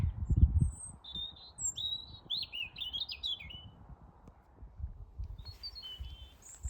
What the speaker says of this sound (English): That bird's got a lot to say.